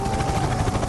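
A private helicopter in a comedy skit, a loud, steady rotor thump and engine roar filling a brief moment with no voices over it.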